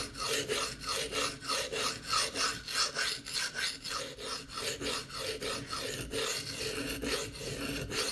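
Rapid, rasping freehand strokes of a Spyderco Endura knife's K390 steel blade across a coarse sharpening stone, a close, regular scraping rhythm of roughly two strokes per second continuing without talk.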